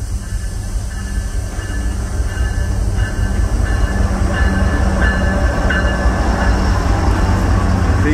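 A train locomotive approaches, a loud, steady rumble and rail roar that slowly builds, with faint tonal squeals layered on top.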